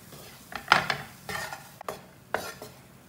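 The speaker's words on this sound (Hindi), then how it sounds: "इसे मैंने अच्छी तरह मिक्स कर लिया।" A spoon stirs and mixes batter in a bowl for an oil-free Bombay-style breakfast, giving several scraping, clinking strokes in an uneven rhythm, close and moderately quiet.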